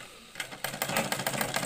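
A sewing machine stitches along a garment neckline in a quick train of sharp ticking needle strokes that begins after a short quiet moment, fairly faint and close, with no voices.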